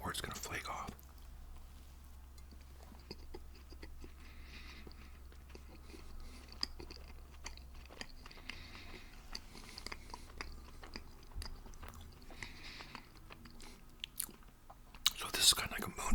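Soft, close-up chewing and crunching of Twinkies and other chocolate-coated snack cakes, with quiet whispered talk between bites and small mouth clicks.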